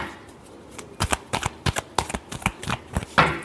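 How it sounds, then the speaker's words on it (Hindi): Tarot cards being shuffled up close, a quick run of crisp riffling flicks and slaps in uneven bursts, with no voices. "last shuffle"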